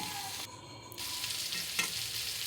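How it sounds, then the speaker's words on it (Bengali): Radish fries in a pan with salt and turmeric, giving a brief, close sizzle with a quick stirring scrape near the end. "লবণ হলুদ দিয়ে এবার আমি এটাকে একটু ভেজে নেবো জাস্ট আর মূলও কিন্তু বেশি ভাজা লাগে না"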